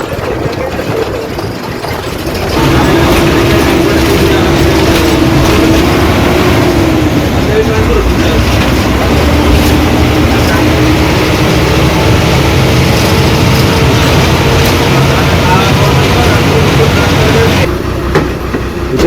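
A state transport (ST) bus drives off from the depot toward Sangameshwar, its engine a steady, close rumbling drone that rises after a couple of seconds and holds under faint background voices.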